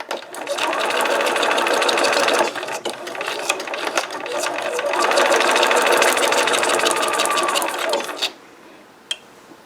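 A sewing machine runs in reverse with a lengthened stitch across small fabric scraps, a steady close mechanical whir with a brief pause midway before stopping near the end.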